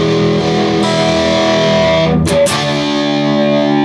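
Distorted electric guitar plays a song section, sustained overdriven chords ringing loudly with a brief slide or pick scrape midway, and no voices.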